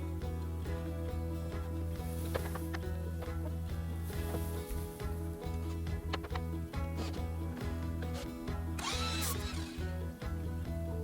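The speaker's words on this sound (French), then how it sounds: "il va falloir percer un trou pour passer les câbles. Donc j'ai pris une perceuse avec un gros foret." A power drill fitted with a large bit bores a cable hole into a three-legged bedside lamp being renovated, a steady loud whine running continuously up close with slight changes in load.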